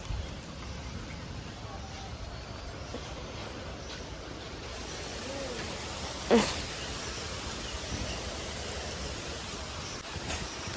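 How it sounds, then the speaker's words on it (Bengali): Strong wind blows steadily outdoors after a storm, a broad continuous rushing roar with one brief louder gust or bump midway. "দেখো কি জোরে জোরে হাওয়া"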